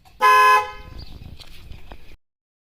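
An original Hyundai Creta car horn fitted to a Maruti Brezza gives one loud, bright blast of about half a second, followed by a softer tail of rattling and handling noise.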